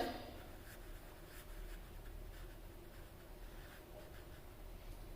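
A teacher writes on a classroom board in a chemistry lesson, a steady faint scratching and rubbing that runs for several seconds with no talk over it.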